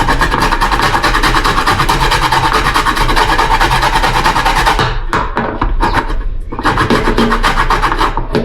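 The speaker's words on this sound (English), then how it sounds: "I'll just grate the zest and add one orange." Orange zest is grated by hand on a grater, producing loud, rapid, rasping scrapes in a steady rhythm that breaks into separate, uneven strokes near the end.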